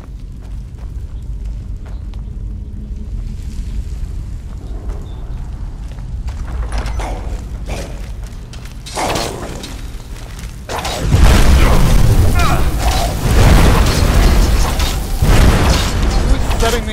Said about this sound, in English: Who's setting me on fire?